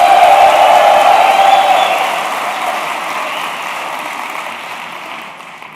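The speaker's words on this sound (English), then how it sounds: "We get some clapping and just simultaneously clap for some reason." A conference audience at a technical session applauding together, a dense loud wash of clapping that slowly fades out over several seconds.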